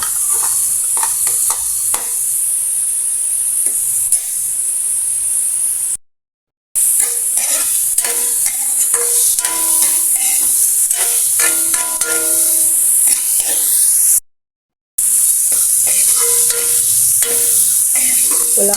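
Garlic and onion sautéing with chicken in a hot pan, a loud continuous sizzle broken by clattering stirs and scrapes of the utensil, with two brief silent gaps, with no talk.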